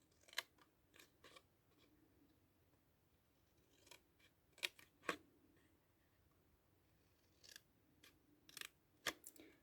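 Scissors snip small tabs in cardboard for the base of a Christmas box, sharp separate clicks and crunches spaced out in little clusters, close by but quiet against a hushed background.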